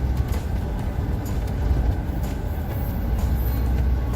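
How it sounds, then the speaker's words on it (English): A long cargo train of container cars rolls through a town, a steady heavy rumble with continuous clattering of wheels on rails and faint high squeals, loud and sustained throughout. "Watching this train for 10 minutes, and it's been going faster than I am, so it's a long train."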